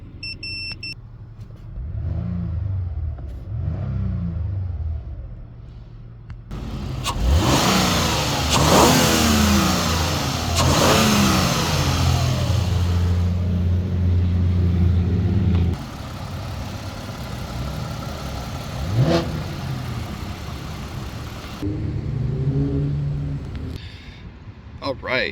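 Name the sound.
2008 Lexus ES350 engine revving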